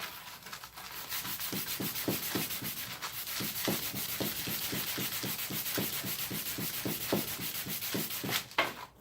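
Sandpaper worked by hand across a wooden harmonica slider part, a steady rhythmic scratching of about twenty close, evenly paced back-and-forth strokes with no talk.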